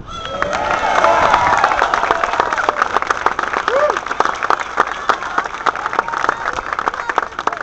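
A crowd at Rick Santorum's Florida campaign launch rally claps and cheers, a loud surge of applause with whoops and shouts that stays busy throughout, sharp individual claps standing out near the front.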